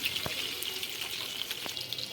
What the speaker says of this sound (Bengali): ডিমের এক পাশ ভাজা হয়ে গিয়েছে এবার উল্টি অপর পাশ ভালো করে ভেজে নিচ্ছে